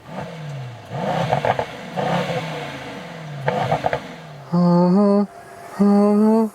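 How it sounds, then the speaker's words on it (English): A Mercedes-AMG E63 S facelift with a 4-liter bi-turbo V8 making 612 horsepower gives several short throttle blips that rise and fall, then two sustained higher revs, heard close and fairly loud. "that's the 4-liter V8 bi-turbo, 612 horsepower, and here in the E63 S"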